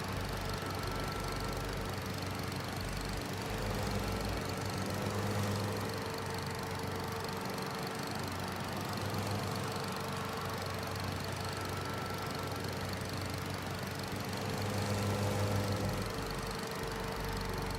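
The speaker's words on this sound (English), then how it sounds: "This thing does a pretty good job of mowing." Steady mid-range engine drone of a lawn mower cutting grass in Farming Simulator 25, running continuously at an even idle-like pitch with slight swells, no talk over it.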